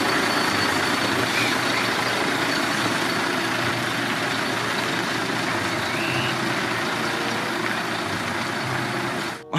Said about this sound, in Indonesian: Wow, truk molen besar,